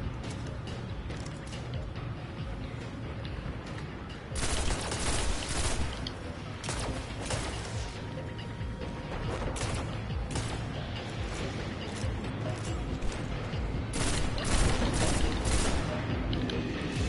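Gunfire rings out in the video game Destiny on PS4 as a dense, steady wash of rapid shots and bursts, moderately loud and continuous, growing busier partway through, with faint talk in the background.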